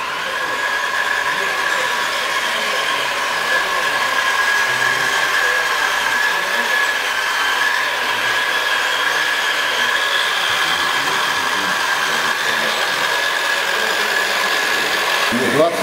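A radio-controlled Tamiya model tank runs steadily with a continuous electric motor and gearbox whine, holding a high tone throughout at moderate loudness, with no break or change in pitch.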